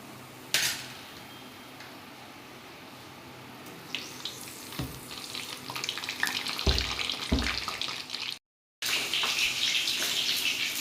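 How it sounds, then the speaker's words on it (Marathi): Slit green chillies frying in the same hot oil used for crisp bitter gourd fritters, a loud rushing sizzle that swells after a sharp splash as they drop in, with a brief silent break near the end. "आता मिरच्या तळून घेते मी त्याच तेलात."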